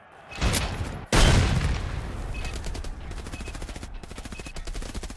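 Gunfire in the shooter game Escape from Tarkov, Arena mode: a burst of loud, close shots and a heavy blast give way to rapid, rattling automatic fire that continues steadily.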